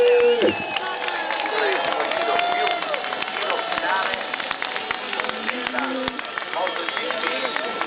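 A crowd of Ducati fans in the grandstand at the Mugello MotoGP round cheers and applauds, a dense, loud and continuous roar of clapping and shouting with voices calling out through it.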